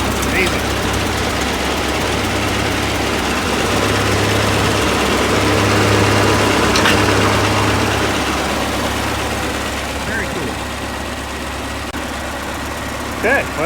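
A 1941 Farmall A tractor engine, just hand-cranked, runs close by with a steady low chugging idle and faint knocking, continuous throughout with a light mechanical rattle.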